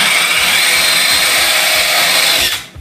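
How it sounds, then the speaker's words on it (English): A power drill with a 7/8 inch paddle bit bores into a wooden cabinet, a loud, close, steady high whir with a faint pulsing chop, then winding down abruptly at the end. "We will be using a 7/8 inch paddle bit to drill the hole."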